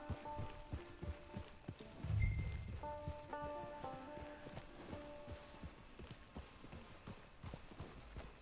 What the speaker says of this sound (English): It's your horse.